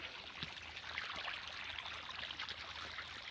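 Irrigation water flows into a farm orchard field in a faint, steady trickling rush, continuous and fairly distant, with no voices.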